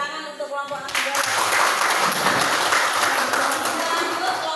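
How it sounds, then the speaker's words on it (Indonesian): Students in a classroom applaud a presenting group, and dense clapping starts abruptly about a second in and continues steadily at moderate loudness after a brief stretch of talk. "Tepuk tangan untuk kelompok nasi goreng."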